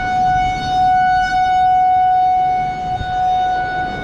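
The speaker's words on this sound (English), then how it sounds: "had a lovely talk with the tornado siren" A tornado civil defense siren wails during a supercell storm, holding one steady, piercing tone that swells and dips slightly in loudness, heard near and alone.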